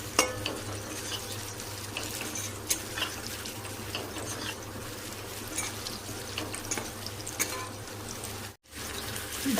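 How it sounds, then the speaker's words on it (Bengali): Lentil cakes (dhoka) fry in a small amount of oil in a pan, giving a steady, quiet, even sizzle with faint spatters that runs without pause, near and alone. "কম কম করে ভাজছি, বেশি তেল দিইনি"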